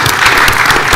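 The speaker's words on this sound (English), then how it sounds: "join me with a round of applause" An audience applauds at the close of a panel discussion, a brief burst of loud, dense clapping from a seated crowd.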